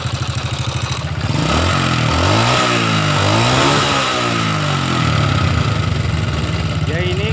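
A rough, uneven Honda Supra motorcycle engine revs up and down repeatedly, loud and close, with a chugging idle at the start and a sputtering tone throughout, its exhaust emitting white smoke.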